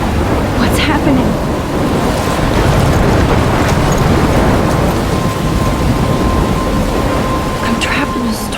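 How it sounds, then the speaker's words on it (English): Heavy rain and thunder roll on without a break in the Life is Strange Remastered video game, a loud dense wash of downpour with rumbling thunder underneath. "I'm trapped in a storm?"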